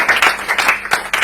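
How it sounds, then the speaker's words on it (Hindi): Brief burst of audience clapping for a poet at a Hindi poetry gathering, a few loud, close claps in quick uneven rhythm. "जोरदार तालियां।"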